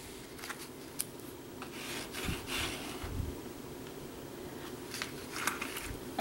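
Scissors cut out a shape traced onto material, making soft, intermittent snips and rustles up close in a quiet room.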